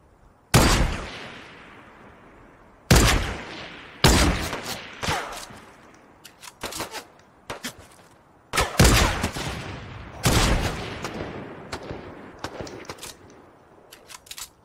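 Gunfire in a shooter video game comes in loud sharp bursts, single shots and rapid volleys spread over the stretch with quieter scattered cracks between them and no talk.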